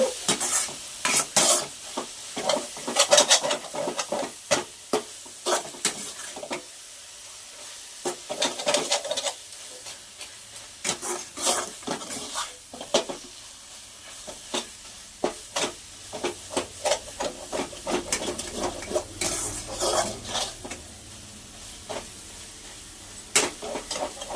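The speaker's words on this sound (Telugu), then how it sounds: "ఇలా మొత్తం నూనెలోనే వాడ్చుకోవాలి గోగాకంతా" Gongura leaves wilting in hot oil while being stirred, a soft continuous sizzle broken by frequent sharp scraping strokes of the spoon against the pan in an irregular rhythm.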